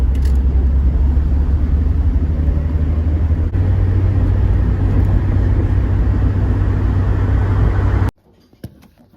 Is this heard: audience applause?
no